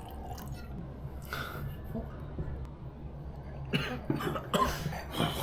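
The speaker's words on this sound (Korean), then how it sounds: "진짜 기침이 나네." Several coughs in short bursts, close by, with a quieter stretch between and a cluster of harsher coughs near the end.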